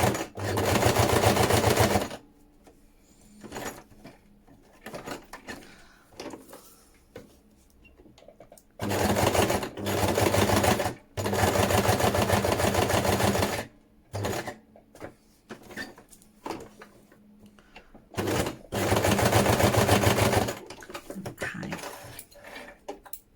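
A domestic sewing machine runs in bursts while sewing a zigzag stitch, loud mechanical whirring for a few seconds at a time, with quiet gaps and handling noises between runs.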